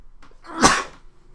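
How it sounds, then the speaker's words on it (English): A single sneeze with a quick inhale buildup and a sharp, loud burst, fairly close, then quiet. "I gotta sneeze."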